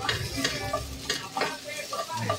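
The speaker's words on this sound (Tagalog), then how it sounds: "gigisa na natin to. Sausage, bawang, saka sibuyas" Sausage, garlic and onion sauté in a hot pan for fried rice, a steady sizzle broken by repeated scraping stirs of a utensil against the pan, close and fairly loud with no talking.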